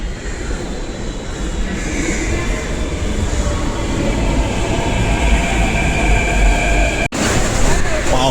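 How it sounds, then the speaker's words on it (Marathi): A metro train rumbles in during heavy rain with a loud, steady roar and whine, growing slightly, then a brief cut before the rumble continues. "चला आता मेट्रो येत आहे"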